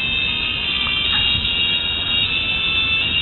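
A crystal radio receiver of a modified Pickard design plays at its loudest, a thin, band-limited, hissy broadcast with faint muffled content running steadily throughout.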